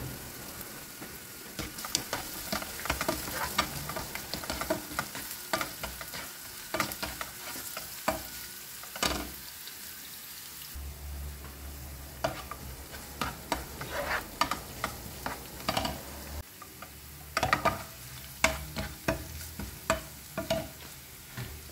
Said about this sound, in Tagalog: Igisa lang natin ang ating mga ricado.